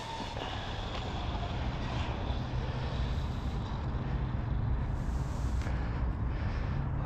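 An Arrma Gorgon brushless RC car on a 3S battery runs at full throttle, giving a steady, loud motor whine with rumbling drive noise throughout, close to the listener and with no talking.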